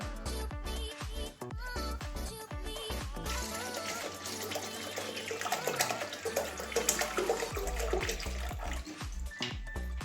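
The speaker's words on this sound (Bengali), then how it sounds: "একটু জলও দিয়েছি আর একটু জল লাগবে ডালে" Water pours into a pot of mung dal on a gas stove, a continuous splashing stream whose pitch shifts as the pot fills, close and steady with no speech.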